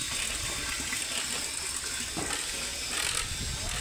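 Water runs steadily from a tap into a container, a continuous rushing hiss heard close and alone at an even level.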